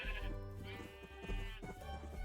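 Sheep in Minecraft bleat in short, wavering, nasal calls, several overlapping and close, with a steady low hum underneath and no speech.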